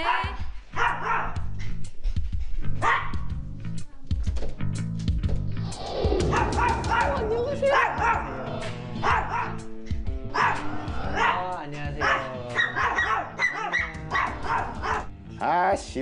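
A Maltese dog barks loudly and repeatedly in sharp, rapid bursts with a few yips, on a televised dog-training show, while people talk throughout.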